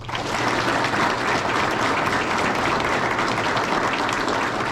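A graduation audience for a Border Patrol class gives special guests a sustained round of applause, a thick, steady roar of many hands filling the hall.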